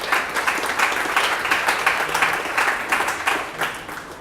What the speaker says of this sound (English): Quick round of applause for them.